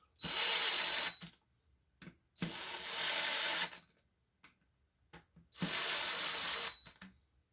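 A power drill driving screws into a budget Schwinn build runs in three loud, sustained whirring bursts of one to two seconds each, separated by short quiet gaps with faint clicks.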